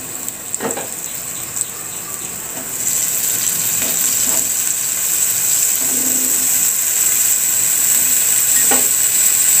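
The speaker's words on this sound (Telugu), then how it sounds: "దీంట్లో మనం చింత చిగురు వేసుకుందాం." Young tamarind leaves go into a hot pan for a dry fish curry. A quiet background swells into a steady, moderate sizzle with a few soft scrapes of stirring and no speech.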